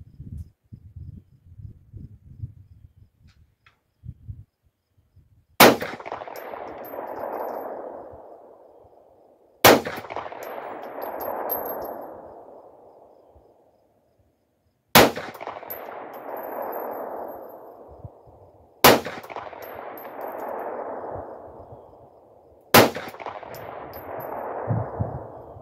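Five sharp, loud Glock 43 pistol shots fired rested at a 200-yard target, spaced several seconds apart, each a hard crack followed by a long rolling echo that decays, with faint handling noise before the first shot.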